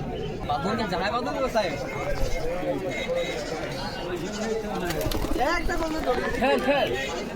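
Pigeons and other birds at a busy livestock market in Beldanga, with faint calls and bleating-like animal sounds mixed into steady crowd chatter and nearby talking throughout.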